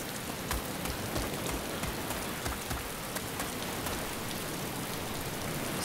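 Steady rain falls in the video game Arma 2 DayZ, set in the town of Elektro in Chernarus, a dense even hiss of drops pattering on surfaces with no voices.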